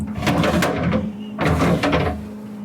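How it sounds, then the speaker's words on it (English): Plastic veggie drawer of a refrigerator sliding open, two scraping rattling pushes in quick succession, close and fairly loud over a steady fridge hum. "Into our veggie drawer."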